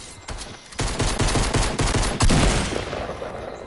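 Bursts of automatic gunfire in a PS4 Fortnite-style building shooter, rapid close shots rattling in a steady stream followed by a louder blast and a fading tail.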